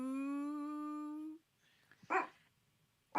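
A person holds a long, steady vocal tone, then after a short pause gives a single short, rough bark in imitation of a dog, with another brief sound at the end.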